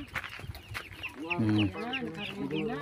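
A batch of 25 chicks is handed out in a rural village, with close, shrill chirps and peeps coming in quick overlapping bursts. Someone talks under the sound and hens cluck nearby.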